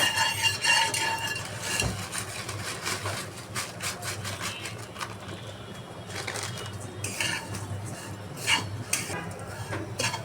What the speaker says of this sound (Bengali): এখন আমি লাচ্ছা সেমাই ভাজবো।